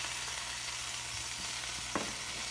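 Salmon patties frying in a pan, a steady close sizzle and crackle that fills the whole stretch with no talking, broken once by a brief clack.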